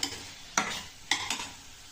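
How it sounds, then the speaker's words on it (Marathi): Mashed paneer with spices being stirred in a frying pan for paneer bhurji, heard as a steady close sizzle broken by three sharp scraping strokes of the spoon against the pan. "आता मी हे सर्व याला व्यवस्थित हलवून घेणार आहे।"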